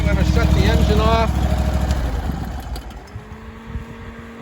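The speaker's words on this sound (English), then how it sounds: "Our fan has quit running, so now I'm going to shut the engine off." A firewood processor's engine idles loudly with a steady low drone, then dies away as it is shut off; someone talks over the running engine.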